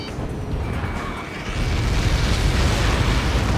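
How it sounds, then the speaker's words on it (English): A massive projectile impact explosion in the Ace Combat 7 jet combat game swells into a loud, sustained roaring rumble that builds sharply partway through and keeps billowing without any voices. "How many got caught in that explosion?"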